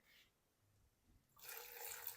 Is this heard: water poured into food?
yes